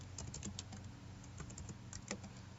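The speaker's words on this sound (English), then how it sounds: "First name, can just go and type Don Chai" Fingers type on a computer keyboard while entering a name into a Microsoft Access club member registration form, a steady run of close, light clicking keystrokes with no talking.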